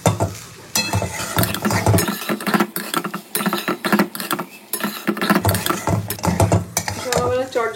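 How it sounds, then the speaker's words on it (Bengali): Spoon stirring vegetables and tomato sauce through rice in a pan, with loud close scraping and clattering strokes and some sizzling, continuing without pause. "এবার আমি একটু টমেটো সস দেবো, দিয়ে আবারও ভালো করে মিশিয়ে নেবো।"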